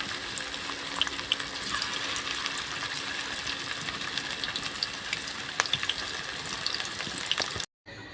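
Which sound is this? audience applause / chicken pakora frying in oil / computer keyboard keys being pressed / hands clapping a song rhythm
chicken pakora frying in oil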